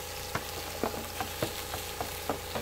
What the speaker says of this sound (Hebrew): Tenemos aquí cebolla de verdeo, es que la vamos a rehogar.